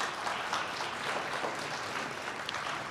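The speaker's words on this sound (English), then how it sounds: "Give him a round of applause" An audience claps steadily at a university student art ceremony for a turnpike plaza, a soft, even wash of applause heard from a distance.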